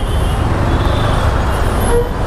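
A TVS Apache RTR 160 4V motorcycle ridden along a city road in traffic, a loud rushing blend of engine, wind and surrounding vehicles, with a brief horn toot near the end.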